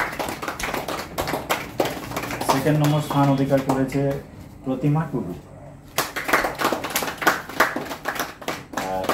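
Scattered clapping from an audience at a prize distribution for defence entrance exam trainees, loose taps running beneath a speaker announcing winners over a microphone.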